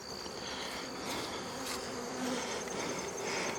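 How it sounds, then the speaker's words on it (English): Honeybees swarming over a hive frame during requeening with a push-in cage make a dense, continuous close buzz that holds steady throughout with a faint higher whine. "A lot of bees on it."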